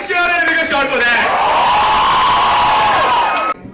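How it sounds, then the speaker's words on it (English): A live audience at a film promotion event cheering and whooping loudly, a sustained roar of voices and shouts that rises together then cuts off abruptly near the end. "A bigger cheer and a bigger shot for that!"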